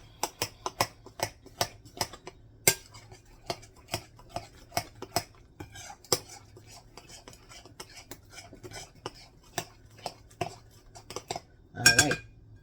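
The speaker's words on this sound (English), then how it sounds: "we're going to start out with a cup of powdered sugar and mix that in with it." Powdered sugar being stirred into pureed strawberries in a bowl for Amish strawberry-filled Bismarck donut filling, giving a steady run of spoon clinks and scrapes against the bowl, close and moderately loud, with a louder clatter near the end.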